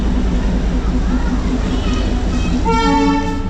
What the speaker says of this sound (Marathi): ट्रेन चालते त्याला टॉय ट्रेन म्हणतात हे अशा प्रकारची ट्रेन असते